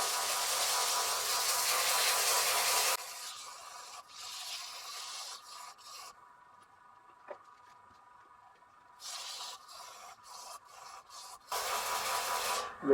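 Coarse sandpaper rasping over a wooden knock-out bar, a steady loud scrubbing that stops for several seconds of near quiet, then returns in shorter strokes and resumes strongly at the end.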